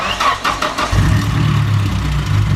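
A Mustang drift car's engine cranked over by a starter jumped with a wrapped wire, a rhythmic whirring crank for about a second before the engine catches and settles into a loud, steady rumbling idle close by.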